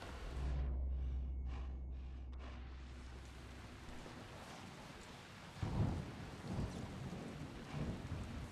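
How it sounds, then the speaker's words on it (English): In the video game Dying Light, a deep rumble of thunder rolls in, then steady rain hisses beneath a second low rumble; no voices. "Oh, and it's raining."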